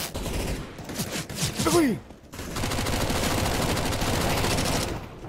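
Rapid bursts of gunfire from Counter-Strike: Global Offensive, loud and dense, with a brief pause and then sustained shooting under a short spoken remark.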